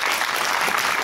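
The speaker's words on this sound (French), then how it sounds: "Génial, bravo, merci beaucoup, applaudissez." An audience applauds continuously, a dense wash of many hands clapping at once, steady and fairly loud throughout the short burst with no voices on top.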